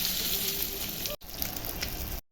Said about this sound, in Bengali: তেল দিচ্ছি, এখন ডিমটা ভাজবো।